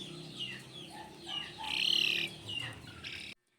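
A young game-farm cockerel clucking and squawking at close range in a multi-purpose pen, in a run of rising, strained calls with a louder peak before the sound cuts off abruptly.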